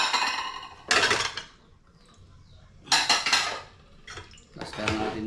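Plates being cleared and handled in a home kitchen, with loud clattering bursts of dishes and cutlery clinking against each other, separated by short quiet gaps.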